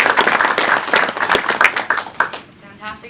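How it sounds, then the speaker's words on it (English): Lively applause for two student presenters at a university business school cafe event, with dense close clapping that tapers off near the end as the room settles. "I think we should give them a round of applause"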